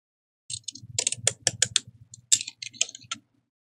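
Scissors snipping the edge off a paper page in an altered book, a close run of quick crisp cuts and clicks over about three seconds in an otherwise quiet room.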